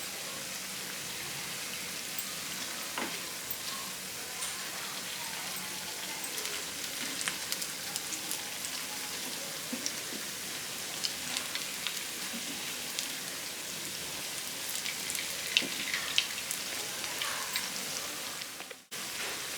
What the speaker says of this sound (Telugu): తర్వాత వీటిని 2 వైపులా మంచి కలర్ వచ్చేలాగా ఫ్రై చేసుకోవాలి